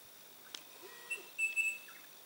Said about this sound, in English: There's a parrot there.